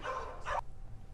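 A dog rescued after Hurricane Idalia barks at a rescue shelter, two quick close yips in a row followed by quiet.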